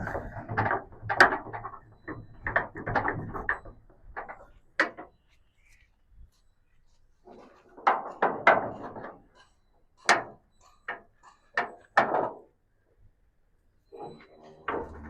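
Latches and hinges clunk and clatter as the door of an Eicher Pro 2110 truck is opened, a series of short mechanical knocks and rattles broken by pauses, close by with no talking.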